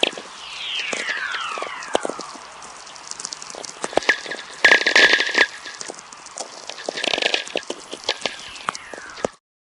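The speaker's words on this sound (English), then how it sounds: "let's take a listen to this crackling static produced by the auroras" Crackling radio static produced by auroras, a dense stream of sharp pops and clicks with descending whistling sweeps, fairly loud and steady throughout, then cutting off abruptly near the end.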